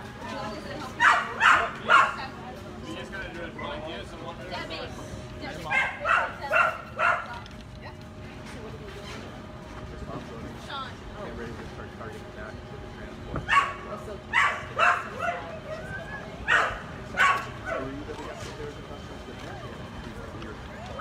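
Rescued dogs from the Bahamas bark in lively clustered bursts as they are unloaded from a yacht in West Palm Beach, with quieter gaps between volleys over a constant outdoor background.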